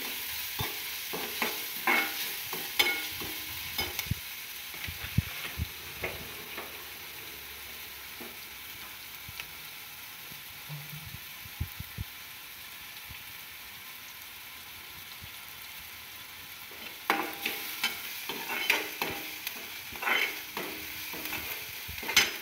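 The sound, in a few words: onion frying in oil, being stirred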